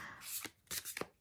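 A Tarot of Aphrodite card deck is shuffled by hand, giving three quick riffling bursts close by with a soft voice faintly behind.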